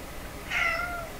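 A cat gives a single drawn-out meow, moderately loud and close, over a quiet indoor background.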